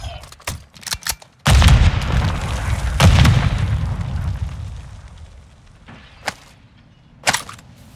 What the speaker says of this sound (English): Throwing grenades!